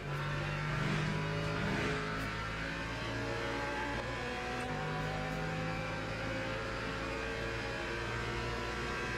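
Race car engines in a GT3 race at Le Mans in a racing video game, a steady loud drone of revving motors with shifting pitch throughout, no talk.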